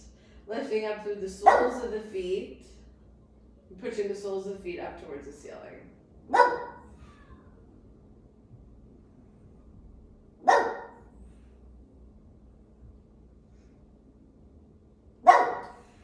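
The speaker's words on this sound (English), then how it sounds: "if you can hear my dog barking in the background" A dog barks in a home during a yoga session, single sharp barks spaced several seconds apart, moderately loud, while someone talks calmly over the first part.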